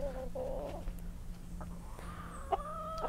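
A rooster clucks and murmurs nearby in short, low calls over a steady background hum, with a brief higher squawk near the end.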